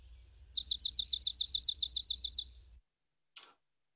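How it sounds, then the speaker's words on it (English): A grassland sparrow gives a rapid, tinkling bell-like trill for about two seconds, clear and close, followed by a single short chirp after a pause. "Their call is a little bell-like ringing."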